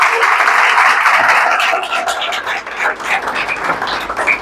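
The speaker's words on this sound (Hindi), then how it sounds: "तालियां बजाओ एक दूसरे की।" A church congregation claps for one another during a worship service: dense, loud applause that starts full, then thins into scattered, uneven claps toward the end.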